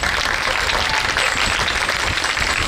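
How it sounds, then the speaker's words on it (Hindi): Dense applause from a crowd at a Navratri devotional bhajan gathering honouring mothers. Clapping stays loud and continuous, with no pause. "तो एक बारी तालियां बजाओ अपनी अपनी माँ के लिए।"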